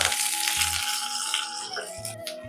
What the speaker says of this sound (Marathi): तूप घालूया कढईमध्ये, जिरे, कढीपत्ता घालूया, बारीक चिरलेली मिरची